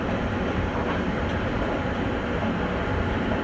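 A Metropolitan passenger train hauled by locomotive 380-011-7 runs toward Wrocław, heard from on board as a steady, loud, unbroken rumble of wheels and carriage noise with no gaps.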